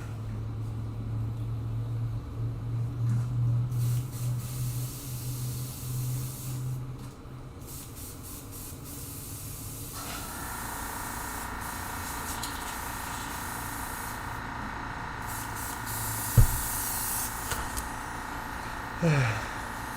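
Aerosol spray paint is applied to ammo box lids in a series of soft hissing bursts, some longer and some short, against a quiet room with faint talk nearby.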